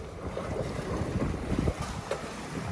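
A sailboat under sail off a rugged coastline, moving slowly at about four knots: a steady rush of wind buffeting the microphone, mixed with the soft wash of water along the hull.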